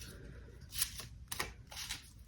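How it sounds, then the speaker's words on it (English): Three quick riffles of an oracle card deck being shuffled by hand, crisp papery bursts close up with short pauses between, quiet room and no talk. "And then I always shuffle again on camera."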